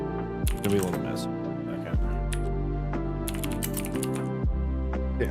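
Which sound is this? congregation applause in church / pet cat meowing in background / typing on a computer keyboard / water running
typing on a computer keyboard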